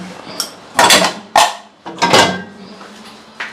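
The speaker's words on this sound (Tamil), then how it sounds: "பாத்திரம்லாம் எடுத்துட்டு தொடச்சாச்சு." Dishes and cutlery being unloaded from an IFB Neptune FX dishwasher, in four or five separate bursts of clinking and clattering set apart by short pauses, near and fairly loud.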